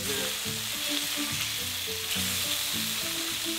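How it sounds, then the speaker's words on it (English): Snakehead fish fries in a hot pan during an outdoor lunch break on a fishing trip, giving a constant close sizzle and crackle with low rhythmic tones underneath and no talk. "Make sure you hear that sizzle."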